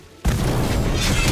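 The Incendio spell goes off in Harry Potter Magic Awakened as a sudden loud booming blast after a brief quiet moment, then a sustained roaring rumble.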